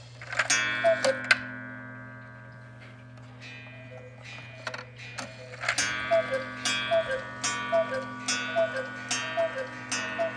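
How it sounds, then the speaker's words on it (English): Cuckoo clocks tick in a clock shop, with steady mechanical tick-tocks and a few sharper clicks early on, then a brisk regular ticking rhythm that grows clearer and closer toward the end. "since we didn't see any of the cuckoo clocks or hear any of them"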